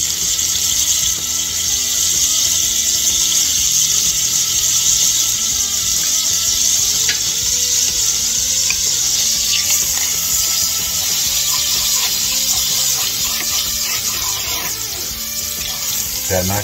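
Butter and oil sizzle steadily in a frying pan, a loud continuous crackling hiss close by with a few faint clinks, while someone talks over it.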